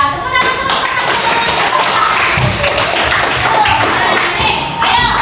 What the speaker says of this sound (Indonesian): Ya, tepuk tangan terus.